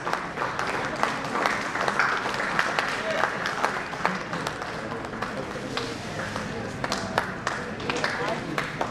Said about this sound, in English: A big applause to her.